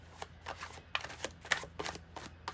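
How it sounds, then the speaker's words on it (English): Tarot cards being shuffled in a series of quick riffling bursts, close and fairly soft, with short pauses between them. "These are easier for me to shuffle."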